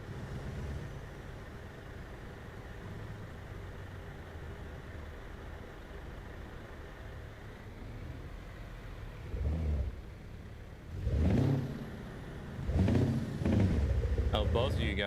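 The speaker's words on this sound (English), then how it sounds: "Your audio makes my standard engine sound like an open pipe" A truck engine with an open pipe exhaust in the Euro Truck Simulator 2 driving game gives a steady, droning low rumble throughout, with voices talking over it near the end.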